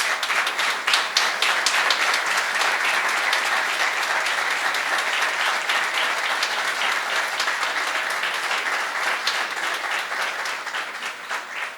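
A large audience applauds at a lecture on global complexity, political risk and electoral trends: dense, steady clapping that stays loud for about twelve seconds, easing only slightly toward the end, with no voices over it.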